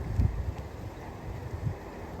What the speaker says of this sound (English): It's windy on this hill